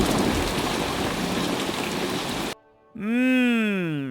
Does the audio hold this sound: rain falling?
yes